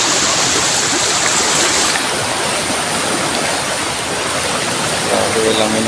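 Floodwater rushes steadily through a stream near a bridge, a loud continuous broadband roar with no breaks, and a faint brief sound near the end.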